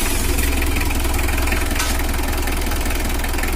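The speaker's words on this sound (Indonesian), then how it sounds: "Kita coba untuk suara mesinnya." A stock, factory-standard Mitsubishi L300 engine idles steadily, a loud, close, continuous rumble with an even low throb and no voices.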